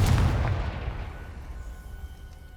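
A Confringo fire spell from the video game Hogwarts Legacy goes off in one loud booming blast at the start, then its rumble fades away over about two seconds.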